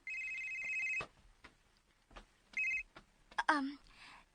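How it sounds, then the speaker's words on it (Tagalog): A cellphone rings with an electronic tone in two bursts separated by a gap. Soft clicks fall between the bursts, and a voice speaks briefly at the end. "Oh, imong cellphone, si. Tubaga"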